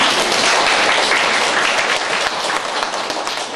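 Applause from a tired afternoon audience closing a church education session, a thick, continuous wash of many hands clapping close and loud from start to finish, alone without talk.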